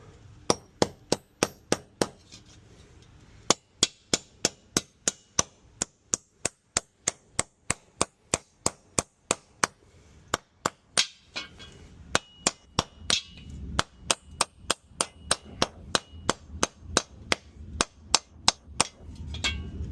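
Hammer strikes ring out during a heat pump installation, dozens of sharp, evenly spaced metallic blows in a steady rhythm, with a brief pause after the opening few, loud and close with no talk.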